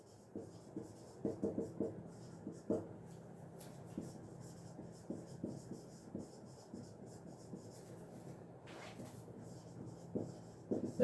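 Writing a statement out by hand, pen or chalk strokes scratching in short irregular bursts with brief pauses, close and fairly faint over a quiet room.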